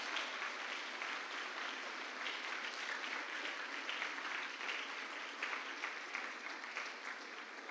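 Congregation applauding at a Spanish-language church service, a dense, even patter of clapping sustained throughout at moderate level, with no voices over it.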